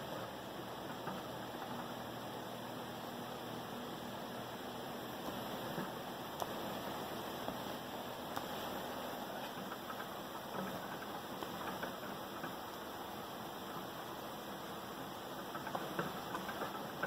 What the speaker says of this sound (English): we'll turn the fan on low speed again